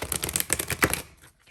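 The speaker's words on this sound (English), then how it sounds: "It's not as easy to riffle shuffle." A collage-style tarot deck, the Blue Rose Tarot with slippery cards, riffle shuffled close up: a quick rapid flutter of cards clicking together for about a second, then quiet.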